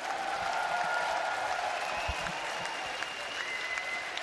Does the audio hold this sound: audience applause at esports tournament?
yes